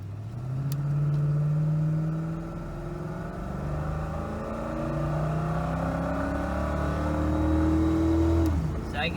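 An old Lincoln Town Car accelerates hard onto a highway, its engine note climbing steadily in pitch through the gears, loud and close throughout with a brief dip near the end, and a voice talks over it.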